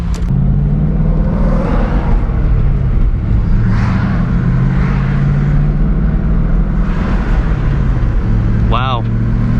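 An SN95 Mustang Cobra drives with a loud, close engine rumble inside the cabin, the pitch dropping and rising through gear shifts while someone talks over it.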